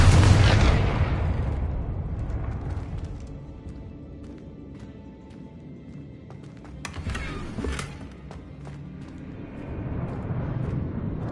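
Confringo, a fiery explosive spell cast in Hogwarts Legacy, sets off a loud booming burst right at the start that fades into a rumbling tail, followed by a second sharp blast midway and lingering low rumble.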